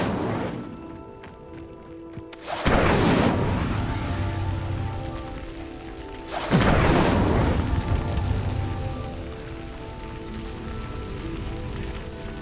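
A fire spell called Incendio, cast in the video game Hogwarts Legacy, bursts out twice as loud whooshing flares, one at about three seconds and one near seven, over steady ambient game sound with no talking.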